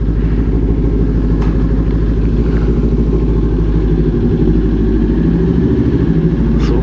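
A motorcycle engine idles and runs steadily close by, its exhaust pressed right against a wall so the low, throbbing note reverberates with a slight echo, with no talking over it.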